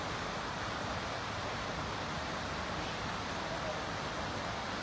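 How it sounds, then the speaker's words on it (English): The River Kelvin flows along the Kelvingrove walkway in Glasgow, a steady, even rush of water that fills the whole stretch with no breaks or distinct splashes, at moderate level. "you can hear the water"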